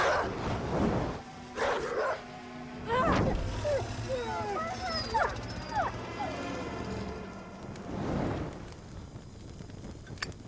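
A dog barks and yips in bursts, joined by loud, close voices talking over the scene, with squeaky, chattering cries in between.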